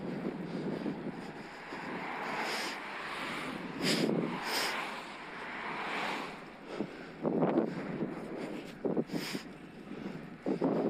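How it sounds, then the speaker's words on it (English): Strong headwind buffets a cyclist's microphone on a Peak District road ride, a steady broadband roar swelling and gusting in repeated surges, loud and close throughout. "here's the headwind, here's the headwind"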